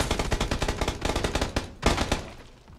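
Rapid automatic gunfire from PLAYERUNKNOWN'S BATTLEGROUNDS, with dense bursts of loud shots and a sharp, heavier crack near the end before the firing tapers off, with no talking.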